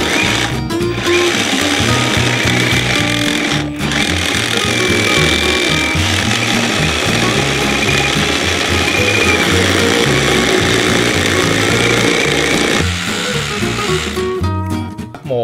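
OSUKA OCRH852 rotary hammer drill boring a hole with a masonry bit, giving a loud, continuous rapid hammering rattle with a few brief pauses, close up and without speech.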